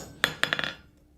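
Chasing hammer strikes hot steel on an anvil while deepening a groove in a forged fleur de lis scroll: one ringing hit, a pause, then four quicker metallic taps fading out.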